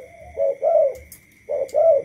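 Black Thai dove cooing in close, clear repeated phrases, two pairs of low mellow coos separated by a short pause, with a steady faint hum in the background.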